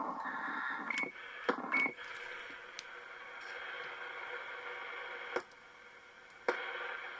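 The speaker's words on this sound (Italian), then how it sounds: "Anche il beep è stato un po' accorciato" A Zodiac Tokyo CB radio gives short, sharp clicks and beeps, including a shortened, higher-pitched roger beep, over a steady hiss of receiver noise, with several distinct tones spread across the stretch.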